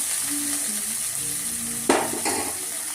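Chillies and chilli powder sizzling in a pan for noodle masala, a steady frying hiss broken by a sharp clatter of stirring against the pan near the end.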